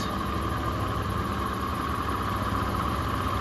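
Car engine fitted with an Accel 59130 performance HEI distributor, running at steady raised revs with a constant loud, close mechanical drone and no talk.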